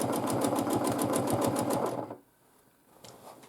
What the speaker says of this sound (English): now I will quilt this part here